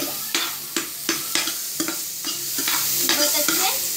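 Onions frying in a pan for a paneer dish, a continuous sizzle broken by a regular series of sharp spatula scrapes and taps against the pan, close and fairly loud.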